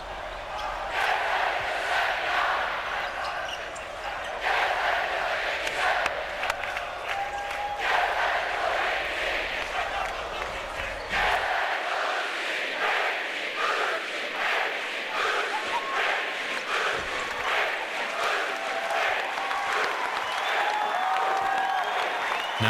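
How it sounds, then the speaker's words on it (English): A student section crowd at a Utah State basketball game in College Hoops 2K8 roars and chants choreographed taunts, a dense, loud, continuous wall of voices with rhythmic swells and applause, no commentary over it. "here comes some more chants, some choreographed taunts for this Utah State building"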